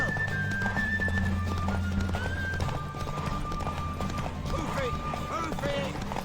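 A horse gallops in The Witcher 3 with continuous rapid clip-clop hoofbeats, close and loud, while a neigh and game voices and music sound over the running.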